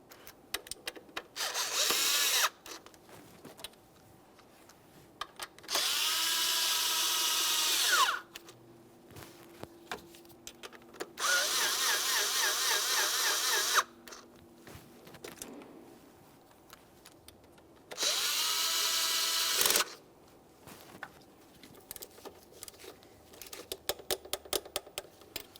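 A power tool snugs the throttle body bolts on a 2008-2017 Mitsubishi Lancer in a crisscross pattern: four loud, sustained whirring bursts of a few seconds each, separated by quieter gaps of small clicks and handling noise.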